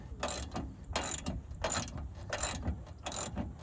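A ratchet wrench tightens the rear sway bar end link on a 2015 Camaro, cranking in about five quick, evenly spaced bursts of dense mechanical clicking, close and loud, with no speech.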